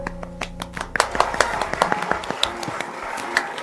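A small audience at an Assembleia de Deus church broadcast in Perus claps, with scattered sharp hand claps, uneven and close, thinning out toward the end.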